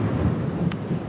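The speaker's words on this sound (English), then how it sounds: "You can hear the thunder behind me." Thunder from a Texas storm, a low continuous rumble with wind and rain noise, plus a brief sharp crackle near the end.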